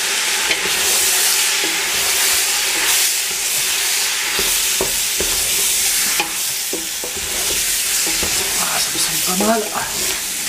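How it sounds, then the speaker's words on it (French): Onions and meat for a Flemish carbonade fry in a pan under a steady, loud sizzle, with scraping and clinking strokes of stirring scattered throughout. "on va faire revenir les oignons et la viande ensemble"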